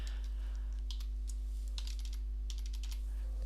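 Keystrokes on a computer keyboard while entering values into a spreadsheet, a loose run of quiet, separate clicks with brief pauses, close by, over a steady low hum and with no talking.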